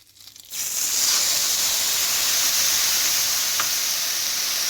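Indian spice masala sizzling in a hot pan for matar paneer gravy, a steady loud hiss starting abruptly after a brief quiet moment and holding evenly throughout, with a faint scrape partway through.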